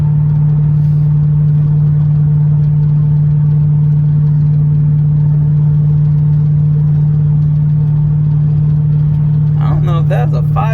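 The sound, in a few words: car engine running after ECU reinstalled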